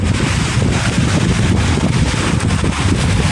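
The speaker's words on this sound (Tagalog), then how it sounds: "Lakas po ng hangin, yung cellphone po natin gumagalaw eh." Strong wind blasts across a phone microphone at sea on Manila Bay during a storm, a steady loud roaring rumble that buffets continuously with no letup.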